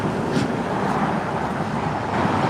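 Steady roar of busy road traffic fills the whole stretch, a constant broadband wash of passing vehicles with no gaps and no voices.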